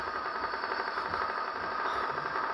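Continuous roaring rocket engine effect from a game as the rocket climbs, a steady dense rumble with faint pulsing texture, loud and unbroken.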